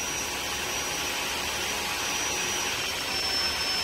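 A Floor One S3 Extreme wet/dry vacuum running on max suction mode makes a loud, steady whining roar that holds constant throughout and swells slightly near the end.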